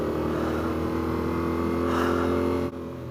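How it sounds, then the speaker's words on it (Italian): A Yamaha T7 adventure motorcycle engine held at high revs while riding offroad, a steady loud drone with strong harmonic bands that dips sharply near the end as the throttle eases. "Io sto sentendo il motore, i giri alti"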